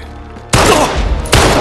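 Two sharp gunfire bursts in the Uncharted 3 video game, the first loud and sustained, a second starting near the end, over a quiet background.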